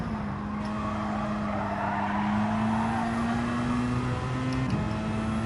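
A race car engine in Gran Turismo 7 holds a high, steady rev through a long pull, pitch rising slowly before a brief drop and recovery, with tire noise underneath.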